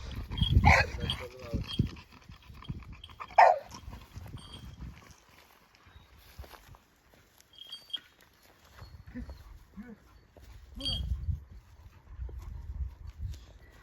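A few barks from a dog close to a Kangal type ring out close by, separated by quieter stretches with faint movement and low background rumble.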